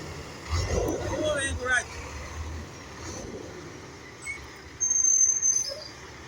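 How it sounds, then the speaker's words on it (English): A garbage truck rolls past with a low engine rumble that swells and fades, followed by brighter mechanical whines and squeals. A voice speaks over it at moments and birds chirp faintly in the background. "Oh. The garbage truck."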